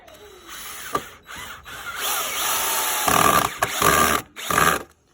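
A bolt is driven in with a ratchet while building a home-made power hammer, giving close bursts of rapid clicking and whirring with brief pauses between pulls.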